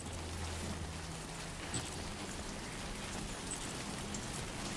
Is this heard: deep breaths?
no